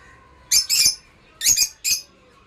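Lutino lovebirds giving a few sharp, shrill squawking calls, two clusters of loud chirps close by with quiet pauses between.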